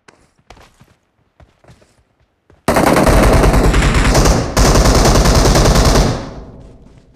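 Sustained automatic gunfire in PUBG Mobile, loud and continuous for several seconds with a brief break, following quieter scattered in-game steps and clicks.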